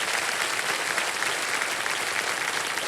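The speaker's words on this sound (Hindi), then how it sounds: "तालियां बज जाएं" Dense studio audience applause on the set of the Indian quiz show KBC (Kaun Banega Crorepati), steady and loud for the full three seconds with no talking over it.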